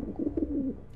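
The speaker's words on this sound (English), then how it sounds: "I can hear the birds outside. They're louder than usual." A pigeon-like bird cooing outside, a soft low rolling coo heard briefly at moderate distance, with no other sounds.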